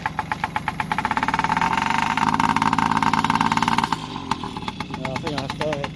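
A Yamaha PW50 motorbike's small two-stroke engine revs steadily with a buzzy, rapid firing rhythm, holding loud for several seconds before dropping back toward idle, with brief whistling squeals near the end.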